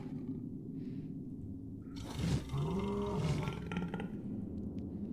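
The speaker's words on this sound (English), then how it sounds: "Not far from her was a large and menacing lion." A large, menacing lion roars in the video game FIVE: Guardians of David, a loud, rough roar surging up midway over steady game background sound, with a deep growling tail that trails off.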